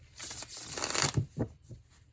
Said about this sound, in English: It shuffled like this right out of the box